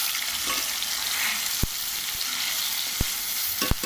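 Ginger, cumin seeds and green chillies fry hard in hot oil in a pan, a constant bright sizzle with a few sharp clinks of a spatula against the metal, no voices over it.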